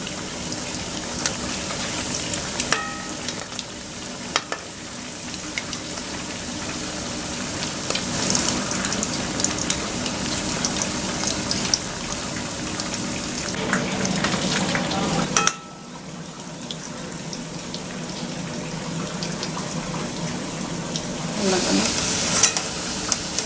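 Chicken tikiya kababs fry in oil over medium heat, producing a sustained close crackling sizzle with occasional scrapes and a brief dip midway before the frying resumes.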